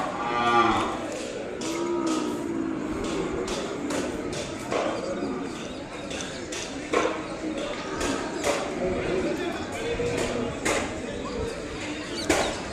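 Calves low and moo repeatedly at an Ongole cattle market in Kodada, with scattered thuds and hoof knocks and people talking in the background.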